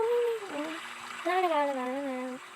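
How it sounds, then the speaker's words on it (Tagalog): Water splashes at close range while someone washes their face, with a voice sounding steadily over the splashing throughout. "maghilamos muna ako"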